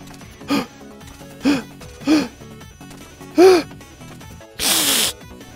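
A person gasps five times at a steady pace, the sharp breathy intakes spaced about a second apart over a low background, the last one longer and noisier.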